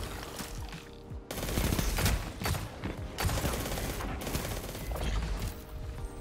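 Rapid SMG fire rattles in sustained bursts in Destiny, loud and dense, with short pauses and mechanical clatter between volleys, no talking.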